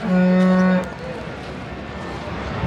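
A loud, deep moo from a buffalo at the Erragadda buffalo market in Hyderabad lasting under a second, followed by quieter outdoor background noise.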